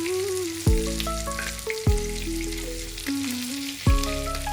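Mutton pieces fry in hot oil with a constant sizzle, broken by a few louder clanks and scrapes as they are stirred in the pan. Close and fairly loud, with no speech.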